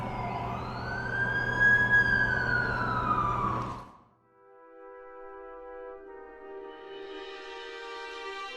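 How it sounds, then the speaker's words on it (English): An ambulance siren in the game The Amazing Spider-Man 2 wails loudly and close by, a rising and falling tone that cuts off abruptly midway, then returns fainter with a steadier pitch. "That's the ambulance I called."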